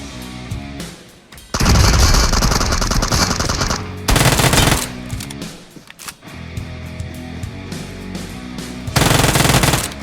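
Rapid automatic gunfire from PUBG Mobile, loud bursts of machine-gun fire with short pauses between them, the heaviest volleys near the start and end.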